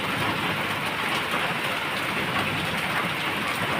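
Heavy rain pours down in a steady, dense roar during a thunderstorm, loud and unbroken throughout with no voices.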